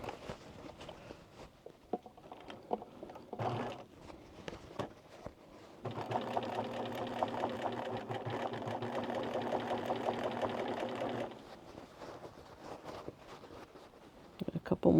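A sewing machine runs steadily for about five seconds while stitching a pocket onto a pair of jeans. Light handling and shuffling noises come before and after, with the motor's whir clearly audible up close.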